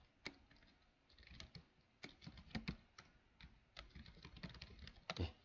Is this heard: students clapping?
no